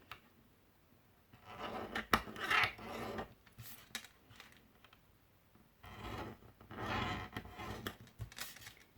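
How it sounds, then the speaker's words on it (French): Paper being scored along fold lines for a scrapbook cake-slice box, heard as repeated rubbing, scraping strokes in short bursts with pauses between, close up, with no talking. "une fois que c'est fait, on vient marquer nos plis"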